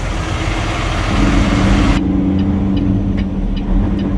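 A semi truck's engine idles at a truck stop in Hesperia, a steady low diesel rumble that holds close and constant, the higher hiss cutting off partway while the deep drone carries on.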